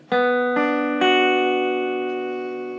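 Guitar notes struck in quick succession build into a ringing chord that sustains and slowly decays, clean and close with no voices.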